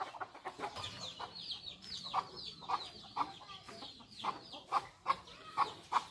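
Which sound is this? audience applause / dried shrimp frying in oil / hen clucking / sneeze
hen clucking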